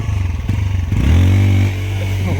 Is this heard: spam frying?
no